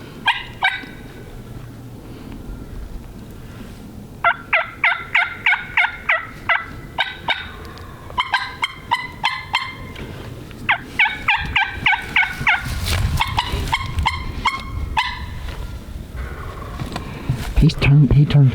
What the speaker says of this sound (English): we got a bird gobbling over here